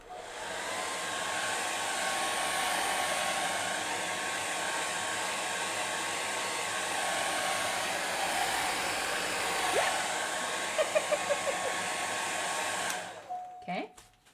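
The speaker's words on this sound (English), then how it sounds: "now what you can do is we can start straight with the hairdryer." Hair dryer blowing alcohol inks across Yupo paper, a loud steady whoosh running nearly fourteen seconds with a few faint clicks near the end before it cuts off.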